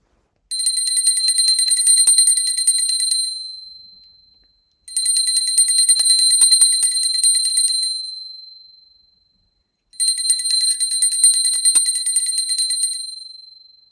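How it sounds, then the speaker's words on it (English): A handheld bell rung during a planetary pooja ritual, three bright sustained ringing bursts of about three seconds each, separated by short pauses, close and clear with no talk. "And now I take a bell to offer the element of sound."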